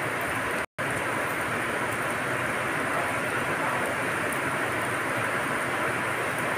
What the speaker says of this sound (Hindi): यहाँ पे इस वक्त बहुत ही ज़्यादा बारिश स्टार्ट है